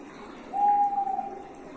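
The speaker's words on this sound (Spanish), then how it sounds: "el sonido de los pajaritos y de todos los demás animales del bosque" A single soft hoot-like bird call sounds in a forest, one sustained steady tone of about a second that rises out of a quiet, hissy woodland background.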